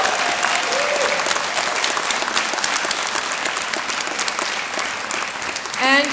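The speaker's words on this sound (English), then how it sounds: "One more round of applause for the class of" A graduation ceremony crowd gives the class of 2022 a loud, sustained round of applause, with dense clapping filling the hall throughout.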